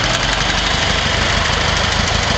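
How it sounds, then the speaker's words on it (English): A restored 1925 Ford Model T coupe engine runs steadily, a loud, close, rhythmic mechanical chugging and rattle with a constant low thump that holds throughout, no voices. "What you got there is a running and driving 1925 Model T."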